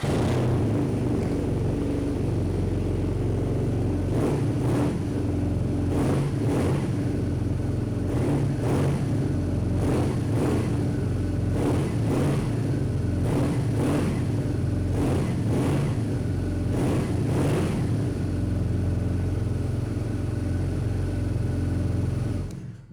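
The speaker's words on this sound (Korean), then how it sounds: "순정 머플러의 배기 사운드 한번 들어보고요" A 2018 BMW R nineT Urban G/S boxer-engine motorcycle on its stock muffler idles with a steady low rumble, punctuated by a series of short, sharp throttle blips spaced a second or two apart.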